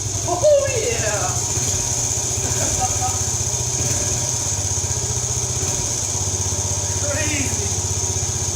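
A Honda TRX 70 ATV engine, just restored and freshly started with the choke off, idles with a steady, rapid putter close by, while voices are heard over the running motor.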